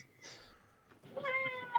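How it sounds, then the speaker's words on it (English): A house cat meows a few times, soft and fairly close, in a quiet indoor room. "Someone's cat wants attention."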